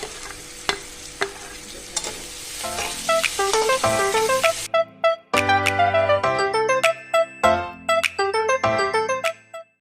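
Onions with ginger, garlic, green chilli and spice paste frying in a pan for Assamese fish curry, with a steady sizzle under repeated scraping and stirring strokes, close and fairly loud, alongside a bright ringing tone.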